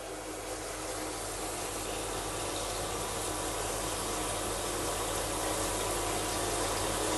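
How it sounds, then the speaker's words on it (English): Warm shower water streams down over a three-week-old baby's head. The spray is a steady, loud, unbroken hiss of falling water, with no voices. "David has discovered that Ada really just loves the shower of warm water running down her head."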